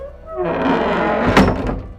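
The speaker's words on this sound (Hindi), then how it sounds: "सिया दरवाजा खोलती है।" A door sound effect in a Hindi horror story: a single loud, close, heavy wooden thunk with a low rumbling body that swells and fades over about two seconds.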